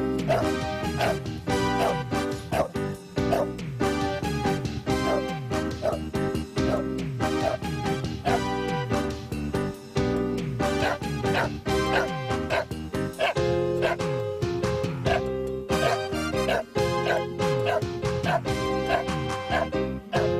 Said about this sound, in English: Travelers, seeing the frantically barking dog tied up to the 1-meter-long metal pole